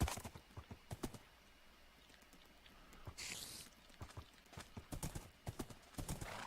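Rhythmic clip-clop of horse hooves from riding across open ground in Minecraft, a steady run of distinct hoofbeats at moderate volume with a brief hissing burst midway and no talking.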